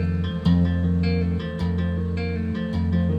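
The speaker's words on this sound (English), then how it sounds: "with my right hand, I will tap out the notes on the chord" Tapped bass guitar notes outlining an F dominant chord, a steady sustained low tone with repeated note onsets about once a second, played alone and close.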